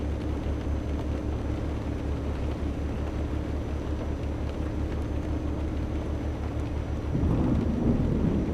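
Steady rain pours in Euro Truck Simulator, with a low rumbling roar of thunder underneath, swelling louder near the end.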